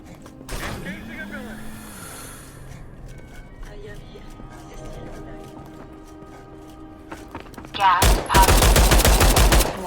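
Heavy weapon fire in the Starship Troopers: Extermination video game, a loud rapid burst of automatic shots in the last two seconds after a quieter stretch of ambient game noise.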